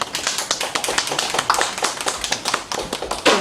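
An audience at a Korean author's lecture on patents applauds as the speaker is welcomed, a dense, even patter of many hands clapping throughout, fairly close.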